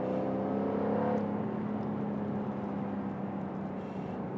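A 2024 Jaguar F-Type R Roadster V8 engine drones steadily with a deep, rumbling exhaust note, holding fairly constant throughout.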